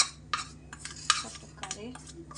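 A spice mix is stirred into fried okra for masala bhindi, with close, rhythmic scrapes and clinks of a spoon against the pan over a faint sizzle.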